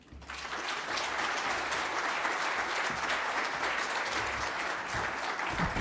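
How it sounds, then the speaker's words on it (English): A lecture audience breaks into sustained applause, a dense and even wash of many hands clapping at close range that holds steady to the end. "Another round of applause."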